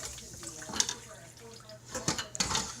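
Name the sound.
water running from faucet onto wok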